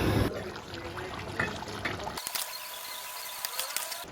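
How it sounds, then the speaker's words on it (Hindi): Water is poured and trickles into a pot of potato curry simmering on low heat, a steady liquid splash that ends abruptly midway, leaving a quieter kitchen background. "थोड़ा सा पानी सोच रही हूँ डाल देती हूँ"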